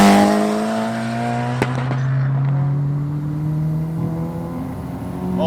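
A turbocharged, B18C-swapped Honda Civic EK hatchback making about 400 hp pulls hard under load, its engine a loud, steady droning roar close by that holds throughout with a slight rise in pitch.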